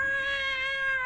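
A storyteller's voice mimics a cat's meow, one sustained, tonal, close cry with strong harmonics, part of a sung animal chorus in a reading of The Musicians of Bremen.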